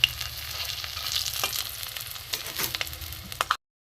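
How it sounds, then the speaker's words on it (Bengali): Stuffed okra fries in a little oil in a pan over a low gas flame, giving a steady soft sizzle with occasional crackles and stirring clatter, close up and without talk. "গ্যাসটা কমিয়ে কমিয়ে ভাজতে হবে"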